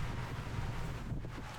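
Wind gusts across an outdoor disc golf course during the Washington State Championships tournament round, buffeting the microphone in a continuous low rush with no talk.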